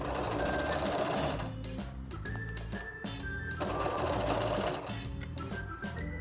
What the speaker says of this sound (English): I want to just make sure that I stitch right across the button loop, catching it within the seam allowance